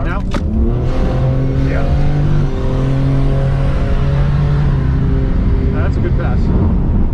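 A Tesla Plaid launches down a drag strip in a loud, steady electric whine that climbs in pitch as it accelerates, with a short voice over the top near the start.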